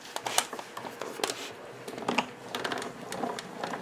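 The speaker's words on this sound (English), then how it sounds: "And we'll just cut all this out." Scissors cut stamped kraft cardstock pieces in a quiet room, giving a close run of light, crisp snips and paper rustles in quick irregular bursts.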